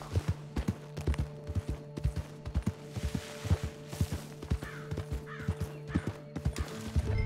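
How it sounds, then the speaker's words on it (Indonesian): Rapid clip-clopping horse hooves in a Red Dead Redemption 2 video game, steady galloping beats with an agitated whinny rising over them, fairly close and clear with no talking. "Waduh, ngamuk nih kuda."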